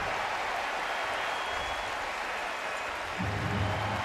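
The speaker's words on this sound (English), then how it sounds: "And this crowd applauds." A Texas Longhorns home crowd in Austin applauds a made 39-yard field goal against West Virginia in 2014, a dense, steady wash of clapping and cheering that swells slightly near the end.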